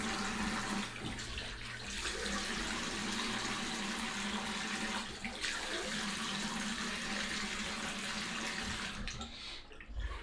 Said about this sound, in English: Just wash all the junk out your beard.